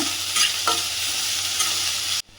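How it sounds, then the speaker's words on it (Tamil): Onions frying in a pan until brown for a village-style prawn gravy, a loud continuous sizzle with a couple of stirring scrapes, cutting off abruptly near the end. "ஆனியன் நல்லா ஃப்ரை பண்ணிக்கணும். நல்லா ப்ரௌனாக வரணும்."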